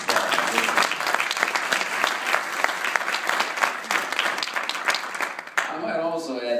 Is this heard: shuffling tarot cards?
no